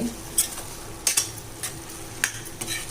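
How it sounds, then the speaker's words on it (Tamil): Ground coconut paste with turmeric sautéing for green tomato kootu, a soft steady sizzle with a few light spoon clinks and scrapes against the pan at irregular intervals. "சேர்த்து ஒரு வதக்கு வதக்கிட்டு"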